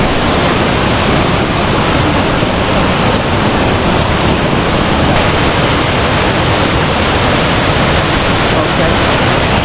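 Strong water pours at Uma Anyar Waterfall in Bali, a loud, dense, unbroken roar of rushing flow filling the whole stretch, close by.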